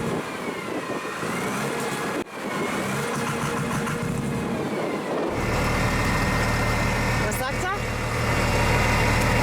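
Offroad vehicle at 4600 m altitude in Bolivia with its engine running rough and blowing white smoke, a steady loud rumbling drone that gets heavier and lower partway through, with someone talking over it.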